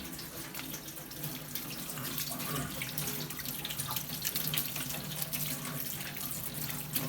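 Radishes rinsed under a running kitchen tap in a village home, a continuous close gush of water with splashing as the vegetables are handled.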